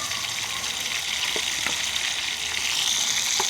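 Ghee sizzling and crackling as it heats in a kadhai over a wood-fired chulha, a steady close hiss with occasional small pops and no talk.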